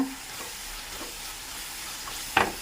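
A soft, steady frying sizzle as spice masala with chili and coriander powder sautés in a pan, with a brief scrape or clink near the end.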